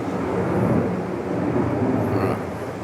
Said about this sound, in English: Maybe you can even hear that plane